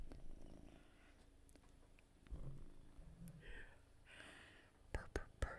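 A cat purrs loudly close up, a steady low rumbling motor-like drone, with soft whispery breath sounds and a few sharp clicks near the end.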